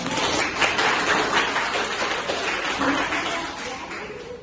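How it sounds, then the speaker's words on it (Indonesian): A classroom of students claps together in a sustained burst of applause, steady and fairly loud throughout, with a few voices mixed into the clapping. "Tepuk tangan."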